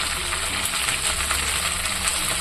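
Mint leaves being stirred and sautéed in a pan, giving a steady, close, even sizzle with faint stirring scrapes throughout and no talking.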